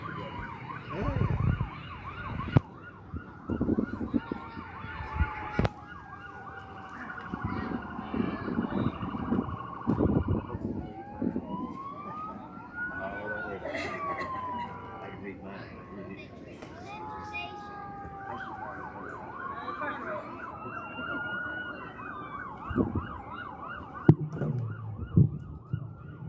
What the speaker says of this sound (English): you got the sirens going